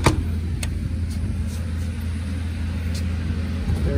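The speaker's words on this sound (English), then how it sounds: "There's our generator. Got right around 900 hours on it." A 10K generator runs on a 2001 Beaver Marquis Jasper motorhome, a steady low engine drone heard close and continuous with a few faint clicks on top.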